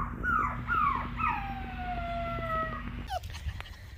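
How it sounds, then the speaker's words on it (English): Eight-week-old rescue puppies from an accidental litter yelp and whine in high, drawn-out cries, several overlapping close by, over a low steady hum before breaking into short squeaks. "I think this one's a screamer."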